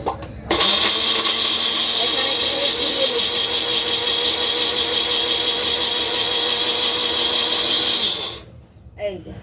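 A mixer grinder runs at full speed blending paneer masala, a loud steady whirring motor with a high whine that holds for about eight seconds before cutting off abruptly.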